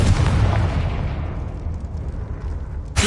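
A Confringo explosion spell in Hogwarts Legacy booms loud and close, its rumbling roar fading over about two seconds before a fresh sharp burst strikes at the very end.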